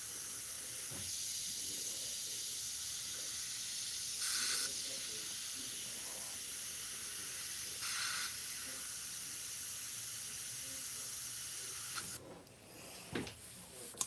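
An airbrush sprays Createx paint onto Blair synthetic paper, giving a continuous soft hiss with a few brief louder bursts as the trigger is worked, close and alone.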